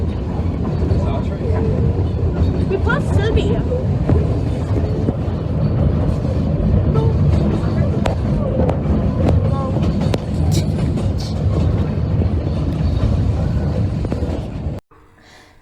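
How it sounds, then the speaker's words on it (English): The Puffing Billy steam train runs past Selby station on its way to Menzies Creek, a loud, continuous rumble with rail clatter that holds steady and then cuts off abruptly at the end, with someone speaking over it. "So the train is passing, and it's continuing on to Menzies Creek."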